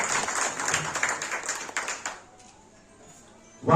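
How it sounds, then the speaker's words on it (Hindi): Audience applause at a national convention of the Akhil Bharatiya Khangar Kshatriya Samaj, a brief wash of clapping that fades out after about two seconds into near quiet, followed by a sudden sound at the very end. "इनका जोरदार ताली से बधाई।"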